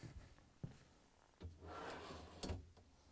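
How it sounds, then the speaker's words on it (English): A refrigerator freezer drawer on an LG/Kenmore unit slides in along its rails, giving a few sharp clicks and knocks followed by a low rolling rumble and a final clunk, close and fairly quiet with no talking. "I'm going to bring in the drawer."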